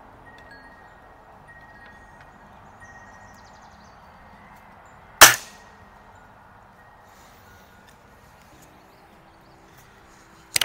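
An RWS Diana 34 T06 classic air rifle fires a single pellet in a backyard, one sharp, loud crack with a quick metallic ring that fades against an otherwise quiet outdoor background.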